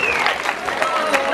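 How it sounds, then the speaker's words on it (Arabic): Children and adults at a lecture on the history of Jalula clapping together, a short burst of applause under a speaking voice and a faint tonal whine. "هاي تصفيق علينا الناس الكل اللي حاضرين"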